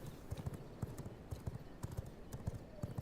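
Horse hooves clip-clop in a quick, steady galloping rhythm in the V Rising game, soft and fairly faint, with no talk over them.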